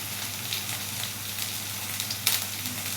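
Spices sizzle steadily in a frying pan of oil with turmeric, chili powder and coriander powder as they are stirred for a samosa filling, a constant close hiss with faint scraping from the stirring.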